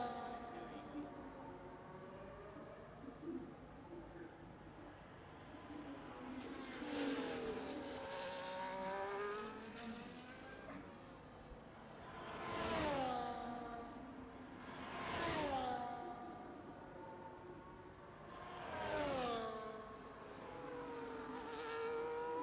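Race cars on a fast lap in a sim racing league event at Spain, engines whining up and down through gears as several cars sweep past in turn, moderately close, under quiet commentary.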